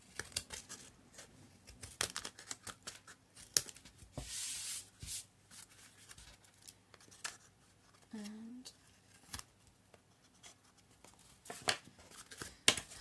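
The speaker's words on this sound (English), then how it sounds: "So we just simply go round and cut it so that we have a nice straight edge" Scissors cut around the edge of a woven Easter basket, giving faint, scattered snips with light crinkling and rustling between cuts, quiet and close-up.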